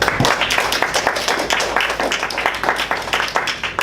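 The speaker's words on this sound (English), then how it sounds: "Please give you a big round of applause." Applause at a Toastmasters meeting, a room of people clapping steadily and close by for several seconds, with no talk over it.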